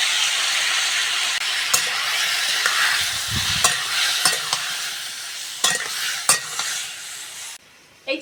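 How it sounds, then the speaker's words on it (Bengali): A spatula stirs and mashes tomato chutney cooked with salt and turmeric in a pan, with no added water. A steady close sizzle runs throughout, broken by repeated sharp scraping strokes. "এই খুন্তি দিয়ে একটু ঘেটে ঘেটে দেবো, দিলে আরো নরম হয়ে যাবে"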